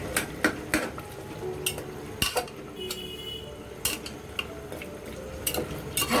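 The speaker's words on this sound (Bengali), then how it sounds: "এখন আমি মাছের মাথাগুলো খুন্তি দিয়ে একটু ভেঙে দেবো" A metal spatula mashes cooked fish heads in an opened pressure cooker pot, giving repeated close clanks and scrapes with a soft wet simmer between strikes.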